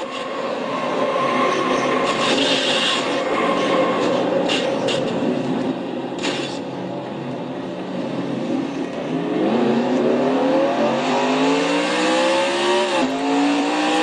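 Onboard a race car, the engine roars loudly and close, dipping briefly before climbing through a series of rising revs as the driver accelerates, with sharp shifts near the end and no talking.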